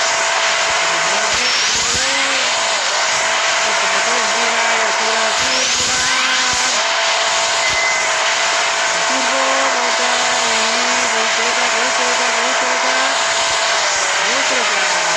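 Engine of a cartoon vehicle in the mobile racing game Hill Climb Racing 2, a steady synthetic drone with rising and falling pitch sweeps as it revs, heard under continuous game music and effects.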